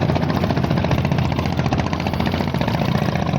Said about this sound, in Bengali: এই বালু উত্তোলনের মেশিনটা।